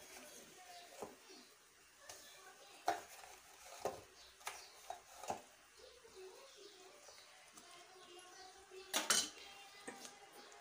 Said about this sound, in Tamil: அதை உடனே இதில் கொட்டி நம்ம கிளறி எடுத்துடணுங்க